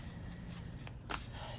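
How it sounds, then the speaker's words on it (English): A deck of Naked Heart Tarot cards is shuffled quietly up close, soft riffling and sliding bursts of paper against paper, with one brief louder flutter near the end and no talk. "I'm being drawn back to the Naked Heart Tarot to shuffle and bring through some more messages"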